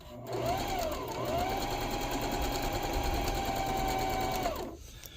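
A sewing machine stitches a fabric cover in one steady, continuous whirring run of about four seconds, starting and stopping abruptly, close and clear with no talk.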